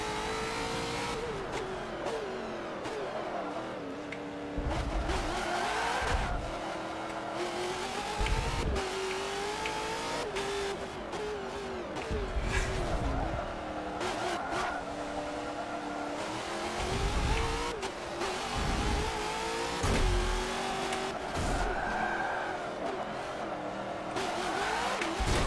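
A race car engine in a video game revs and roars continuously, rising and falling through gear changes with occasional tire squeal, loud and steady throughout.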